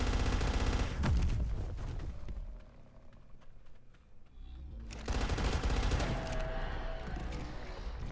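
An energy rifle firing in a survival video game during a Dreadnoughtus taming, rapid loud bursts of automatic fire at the start and again in the second half, with a quieter gap between.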